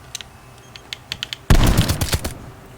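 Gunfire in a hardcore-mode shooter video game: a few light, scattered shots, then a loud, dense burst of rapid fire with sharp repeated reports, no voices.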